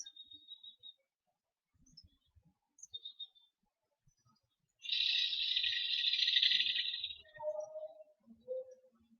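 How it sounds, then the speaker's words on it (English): Birds chirp and call outdoors in quiet surroundings, with short scattered chirps and one longer, louder trilling burst in the middle. "You can hear the birds singing out here."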